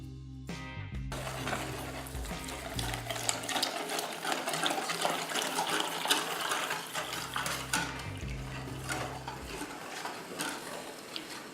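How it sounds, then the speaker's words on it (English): Cold milk poured into a saucepan for an apple cake makes a steady, close, full splashing rush that runs without a break and stays fairly loud throughout. "Now add the cold milk."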